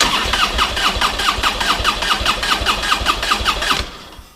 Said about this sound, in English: let's go ahead and crank the engine and see what it does